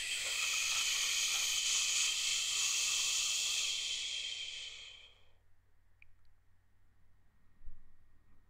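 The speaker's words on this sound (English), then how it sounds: "And emptying out with a blow or sizzle" A breath forced out in a long, loud hissing sizzle during a yoga exercise, steady and close for about five seconds before cutting off into near silence, followed by a faint soft sound near the end.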